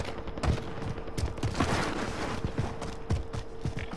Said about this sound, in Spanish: Hay disparos desde la montaña hacia Bonjet